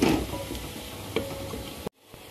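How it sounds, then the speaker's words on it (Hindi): Garlic and whole dried red chilies fry in oil with a close, soft sizzle and a few stirring scrapes, then cut off abruptly into near quiet. "अब हम इसको भूनते रहेंगे जब तक ये लहसुन हमारा अच्छी तरह भून नहीं जाता"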